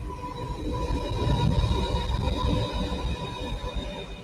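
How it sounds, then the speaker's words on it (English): A freight train rumbles past steadily, its low heavy roar swelling and holding with faint high wheel squeal tones riding above, no voices. "Have a freight train."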